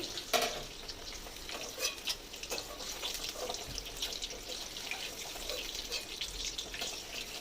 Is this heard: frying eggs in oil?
yes